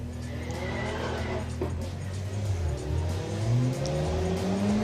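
A drag racing car at the Jap Show Finale 2021 rolls into its launch with a loud, sustained engine note that climbs steadily in pitch as it pulls hard down the strip, with tyre noise mixed in.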